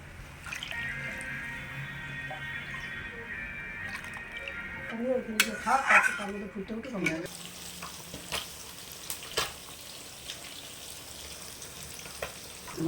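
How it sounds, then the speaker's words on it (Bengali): Water poured into sizzling fried spice masala for a fish curry, a loud hissing burst in the middle that fades into quieter bubbling, with a voice talking over the frying. "মশলাটা আমার কষানো হয়ে গেছে, এবার আমি জল দিয়ে দিচ্ছি।"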